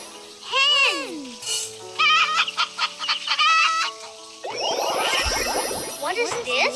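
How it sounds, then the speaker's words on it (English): A hen clucks and squawks in a series of short, loud calls, with bursts of rapid cackling toward the end, close and alone. "Hen!"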